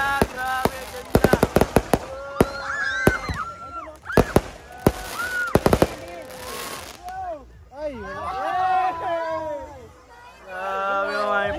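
Fireworks at an outdoor debut party burst in a rapid series of loud cracks and pops, while nearby guests chatter and exclaim throughout.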